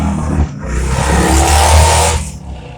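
Loud motorcycle roaring past on a residential street, rising to a close peak and then fading away within a few seconds.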